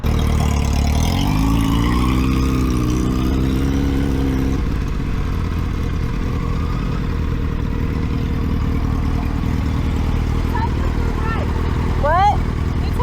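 An Aprilia 457 motorcycle engine hums steadily while riding, a continuous mid-pitched drone with a rising pitch sweep early on, close and loud under wind noise, with a brief chirp near the end.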